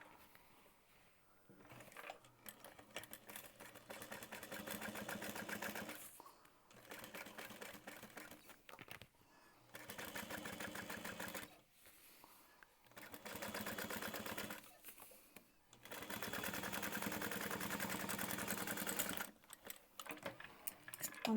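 A sewing machine runs a top stitch on a Scoops Ahoy garment, firing in several sustained bursts of rapid mechanical chatter separated by short quiet pauses.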